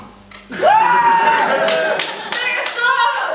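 At a comedy night show, a small audience claps in a loose, uneven patter while voices talk and exclaim over it.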